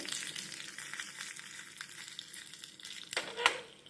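Ingredients for unripe jackfruit sambar roasting in a pan, with a steady low sizzle and occasional scraping stirs close by, ending in a sharper clink.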